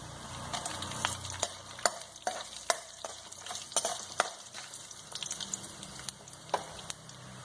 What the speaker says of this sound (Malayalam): ഇനി നമുക്ക് വറ്റൽമുളക്, ഉണക്കമുളക് ഇട്ട് കൊടുക്കാം